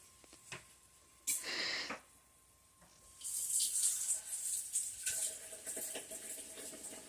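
A kitchen faucet runs into a sink in short bursts, one brief gush followed by a longer steady splashing stream, with small clinks and taps around it.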